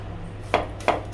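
A knife finely chopping onion on a board, two crisp separate strokes roughly a third of a second apart, close and clear over a low steady hum.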